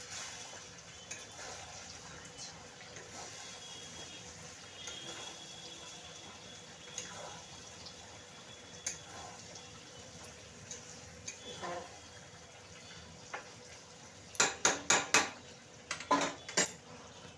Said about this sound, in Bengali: দাঁড়াও একটু নেড়ে দিয়েছি এটা মাংসটা